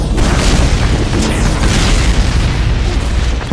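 Sticky bomb explosions in Team Fortress 2, a loud continuous rumble of booming blasts filling the short stretch.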